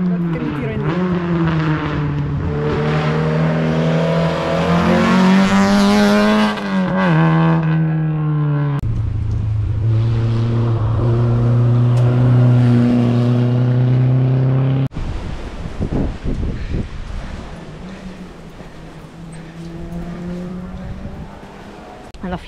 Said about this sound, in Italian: Adesso vediamo una macchina passare, sia chiaro.